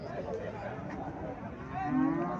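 A single low moo from a Haryana-breed cow swells near the end, faint against a quiet, muffled background at a cattle fair.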